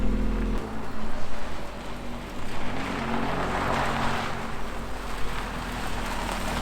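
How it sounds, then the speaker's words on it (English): A Mazda Miata with its front bumper missing drives along a road, its engine a steady broadband rumble and road roar that holds fairly loud throughout with little variation. "Ah, we'll just drive it down the road."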